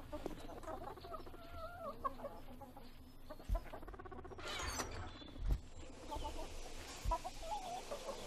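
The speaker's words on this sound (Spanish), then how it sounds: "¿De dónde narices han salido estas gallinas?" Chickens cluck and chatter continuously in the 7 Days to Die video game, several birds close by over low game ambience, with a few louder thumps mixed in.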